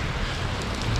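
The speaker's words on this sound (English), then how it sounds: "And it's pouring rain." Heavy rain pouring down outdoors during a storm, a dense, steady hiss of drops with no other sounds and no pauses.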